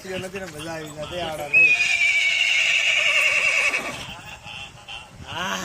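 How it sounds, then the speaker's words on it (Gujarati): A horse in a village gives a long, loud whinny that rises and holds for a couple of seconds, with people talking before and after and faint hoof clip-clops. "ઘોડે"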